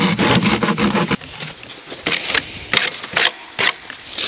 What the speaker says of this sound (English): And then I'm going to use my Fox Block saw.